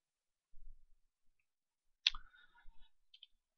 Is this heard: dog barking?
no